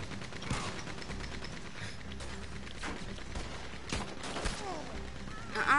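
Scattered gunshots crack out in the Red Dead Redemption video game, several sharp bursts at uneven intervals over a low game ambience, moderately loud.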